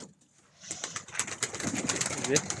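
Pigeons cooing inside a pigeon house, soft repeated throaty coos building after a quiet start, with faint voices mixed in.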